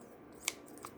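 Stiff crafting scissors squeak open and shut, giving one sharp metallic snip followed by a fainter second one in a quiet room.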